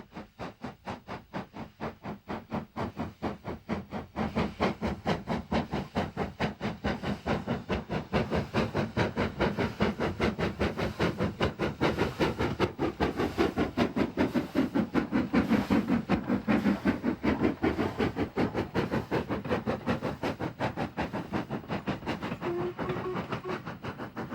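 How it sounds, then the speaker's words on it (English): An LMS Jubilee class steam locomotive, No. 5593 Kolhapur, pulls away from Edale on the Sheffield to Manchester Midland line, with rapid rhythmic exhaust beats, steady rolling rail noise and hiss, growing louder and holding strong throughout. "another popular LMS locomotive, number 5593 Kolhapur, a member of the Jubilee class, seen leaving Edale on the Sheffield to Manchester Midland line"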